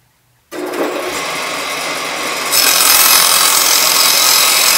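Power saw cutting 30-degree angles on thin wood strips from a 2x4, a loud close whine that starts abruptly and grows harsher partway through the cut, with no talking.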